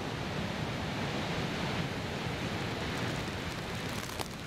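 Victoria Falls roaring, a dense, continuous broadband rush of falling water, steady and loud as if heard from close by, with no voices.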